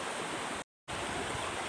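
Water gushing steadily from a spring source at a hose outlet, a continuous broadband rushing close by, briefly cut out for a moment mid-way before resuming.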